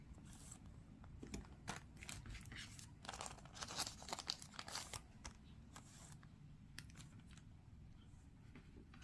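One Piece trading cards being pulled from their cardboard box packaging, with faint, close crinkling, tearing and scraping sounds in scattered short bursts, quiet throughout.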